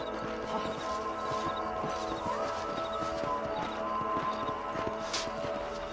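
Horse hooves clip-clop steadily in a video game, a rhythmic string of light hoof strikes running through the whole stretch over continuous background game sound.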